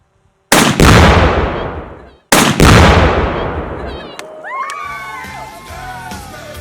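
A rifle shot sets off 4 lbs of Tannerite packed with 15 lbs of pink chalk powder at an outdoor gender reveal, giving two loud, close blasts with long rumbling decays, followed by cheering and excited voices.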